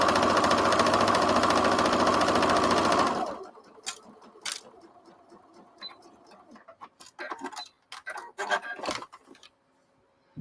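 A sewing machine runs a quick seam: a loud, close, rapid mechanical whir for about three seconds, then stops, followed by scattered handling clicks and soft rustles.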